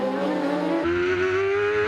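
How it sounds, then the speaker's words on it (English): Racing motorcycles scream past at Cemetery Circuit in Wanganui, a loud high-revving engine whine that drops pitch as the bikes pass and shift, close and continuous. "Just look at the attitude of the bikes as they head up over the Bridgestone Bridge"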